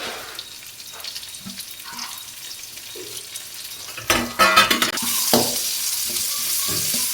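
Garlic, curry leaves and buttermilk chillies fry in a pan, a steady close sizzle. A burst of louder crackling and stirring comes midway, then a brighter hiss continues to the end, with no talk.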